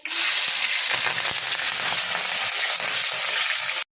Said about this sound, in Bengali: তেলটা গরম হয়েছে, কালো জিরা ফোড়ন দিয়ে দিলাম, কাঁচা লঙ্কাটা দিয়ে দিচ্ছি